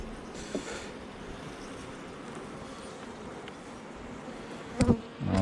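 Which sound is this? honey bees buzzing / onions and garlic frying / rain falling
honey bees buzzing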